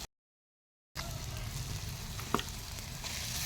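Vegetables, chillies and crushed thecha sauté in a pan for vangyache bharit, a steady close sizzle and frying crackle after a brief silence, with a single stir clink midway.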